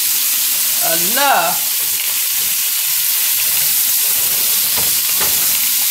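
Catfish frying in butter for blackened catfish, a steady close sizzle running the whole time, with a brief voice rising over it early on.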